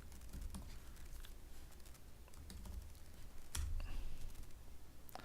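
Computer keyboard typed on at close range, with a quick patter of light key clicks, a few heavier taps and a brief louder cluster near the end, no speech present.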